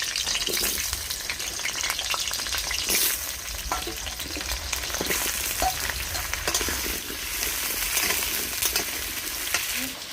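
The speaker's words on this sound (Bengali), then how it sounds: "আমি আর একটু তেল দিয়ে আলুটা ভেজে নিচ্ছি কেটে রাখা আলুগুলো" Cut potatoes fry in oil for chicken bhuna khichuri, giving a steady, loud, dense sizzle throughout, with occasional clinks and scrapes of stirring.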